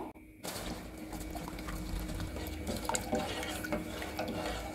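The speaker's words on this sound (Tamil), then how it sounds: "இதோட தண்ணி சேர்க்குறேங்க" Water is poured into a pan holding 200 grams of sugar for an apricot halwa sweet. It makes a steady, close splashing stream that runs on for several seconds without a break.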